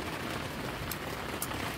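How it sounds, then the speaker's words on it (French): Steady rain falling on a sailboat at anchor, a dense even patter and hiss close by with no voices. "mais on va attendre qu'il arrête un peu de pleuvoir."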